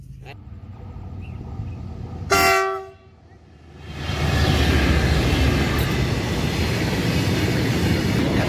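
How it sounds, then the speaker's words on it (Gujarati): A train passes a rural level crossing, a loud horn-like tonal blast sounding briefly before a dip, then a sustained broadband roar of the passing train that holds steady to the end. "અહીંથી ટ્રેન નીકળશે હમણાં।"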